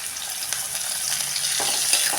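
Chopped onion fries in hot oil with green chilli and curry leaves as tempering for jowar flour upma, producing an even, close sizzle with light stirring.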